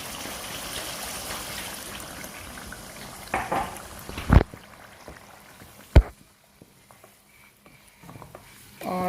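A cup of milk poured into cooking chicken qorma: a soft liquid wash over gentle bubbling, broken by a few brief utensil knocks, then quieter simmering.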